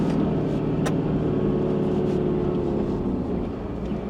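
A vehicle grinds steadily along a well-marked outback track over bare rock once walked by prospectors, the engine droning low and continuous, close and loud throughout, with no voices.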